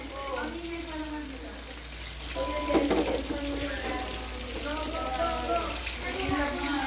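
Butter melting in a pan for creamy chicken carbonara, a soft steady sizzle and crackle heard faintly while a person talks over it.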